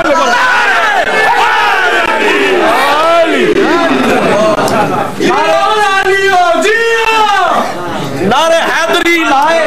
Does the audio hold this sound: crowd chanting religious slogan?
yes